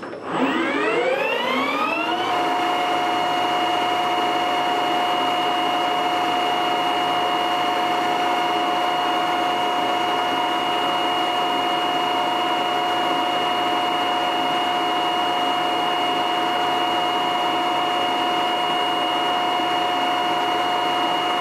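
A metal lathe turning steel with a brazed carbide tool rises quickly in pitch as it spins up, then holds a loud, steady mechanical whine with no talking.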